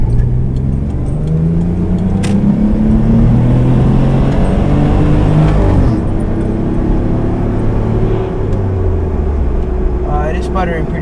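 A Mitsubishi 3000GT engine with worn spark plugs runs rough and sputters, a loud, close droning whose pitch rises and falls unevenly as it revs.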